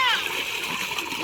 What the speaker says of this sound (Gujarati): આપણું દેશી સ્વિમિંગ પુલ હાલો નાવા